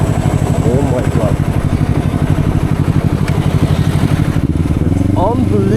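A Honda CBR 250 RR motorcycle fitted with an Akrapovic exhaust runs close by, its engine pulsing in a rapid, rough rhythm with a brief rev near the end, while someone talks over it.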